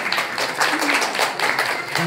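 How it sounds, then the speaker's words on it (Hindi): An audience at a Rajasthan teachers' association felicitation ceremony gives a sustained round of applause to welcome the guests on stage, steady clapping that fills the whole stretch. "सभी मंचों अतिथि के लिए एक बार जोरदार ताली बजाकर आपका स्वागत करें"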